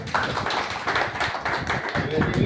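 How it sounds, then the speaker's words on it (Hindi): A small crowd claps in short uneven bursts at an NCP party gathering where new ward officials take office, the applause close and mixed with voices. "ताली तो बजा दो भैया।"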